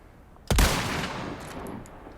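A single sharp, loud gunshot in Resident Evil 4 Remake fires early and rings out into a fading reverberant tail, with faint clicks afterward.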